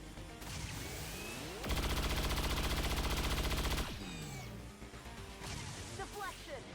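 Gunfire in XCOM 2 Long War of the Chosen, a loud sustained burst of rapid automatic shots lasting about two seconds, set amid game effects, whooshes and chirps, with a voice talking around it.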